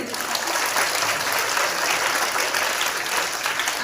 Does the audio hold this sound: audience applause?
yes